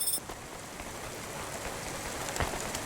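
Rain pours steadily in the Cloudpunk video game, a dense, even patter of drops on surfaces that fills the whole stretch at moderate loudness.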